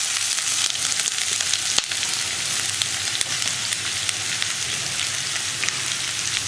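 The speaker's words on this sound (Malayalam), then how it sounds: "ഇത്രയും ചേർത്ത് ഒന്ന് ചൂടായി വരുമ്പോൾ നമ്മൾ കട്ട് ചെയ്ത് വെച്ചിരിക്കുന്ന സവോള ചേർത്ത് കൊടുക്കുക" Chopped onions sizzle in hot oil with spices for an egg roast, a dense, even crackling hiss that runs throughout, with a few sharp clicks on top.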